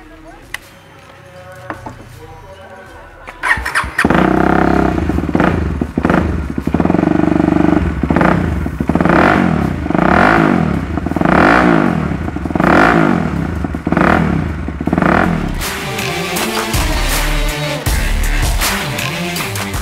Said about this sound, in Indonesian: kita dengerin yuk suara knalpotnya seperti apa